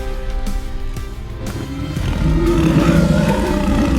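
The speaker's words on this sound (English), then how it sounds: "they heard a loud roar and a lion jumped out in front of them" A deep lion roar swells up over a dark rumbling background, growing louder and sustained through the second half.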